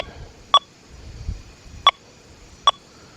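Three short, sharp electronic beeps from a Deus 2 metal detector with HF2 coil sound at uneven intervals over a quiet background, each brief and clear.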